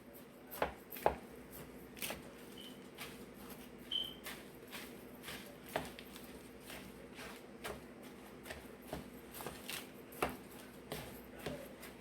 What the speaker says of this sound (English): And I'm gonna mix all this up.